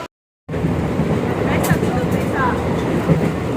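Steady rumble of a moving passenger train heard from inside the carriage, continuous low rolling noise with faint rhythmic rail clatter, starting after a brief silence.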